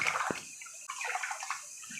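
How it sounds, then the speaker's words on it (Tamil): Raw rice being rinsed by hand in water, a short run of sloshing and splashing with a brief swirl of grains, close and fairly quiet. "இதை கழுவி 2 தடவை தண்ணி ஊற்றி கழுவி நல்ல தண்ணி ஊற்றி ஊற வச்சுக்குவோம்"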